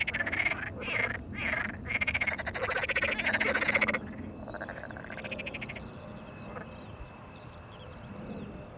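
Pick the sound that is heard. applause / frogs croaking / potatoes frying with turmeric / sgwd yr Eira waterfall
frogs croaking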